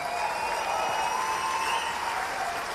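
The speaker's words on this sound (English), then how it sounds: "A big round of applause for everyone nominated and our winners tonight" Audience applause in the Bloomsbury Big Top in London at the 2019 Golden Joystick Awards, a dense, sustained clapping from a large crowd, even and continuous throughout.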